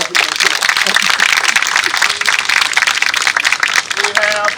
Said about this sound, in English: Let's give our family a round of applause.